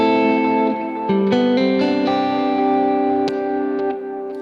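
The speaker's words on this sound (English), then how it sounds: "let's start with the 71 Super Lead. This is the clean tones." A Marshall '71 Super Lead preset on a Helix Stadium plays an electric guitar clean tone: a short series of ringing, sustained chords and notes, each change struck cleanly, close and clear, with no talking.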